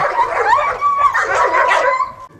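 Stray dogs at an animal shelter give high yelping barks and whiny whimpers, loud and close, overlapping in a continuous excited chorus.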